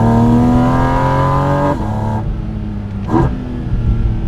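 Porsche GT4 RS engine revving loudly up close, a sustained high-pitched rising wail that drops off, then a second quick rev burst, with no talking.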